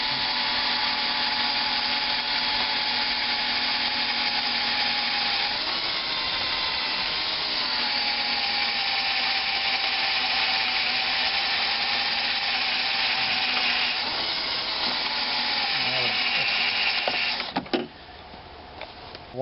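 A power drill bores out the rivets on a Ford Ranger door during a door lock cable repair. It makes a steady, loud whirring whine that holds for about seventeen seconds, then cuts off abruptly near the end.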